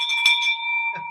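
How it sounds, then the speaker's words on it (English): A bell rings twice in quick succession, two bright clear metallic strikes close together with a sustained ringing tone, loud and near. "That's a double bell."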